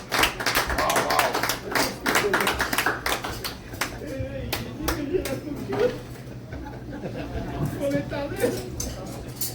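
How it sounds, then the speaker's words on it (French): Cabaret audience clapping to welcome a performer, a loud flurry of hands that fades into scattered claps, with talk and chuckling mixed in. "Donnez l'applaudissement,"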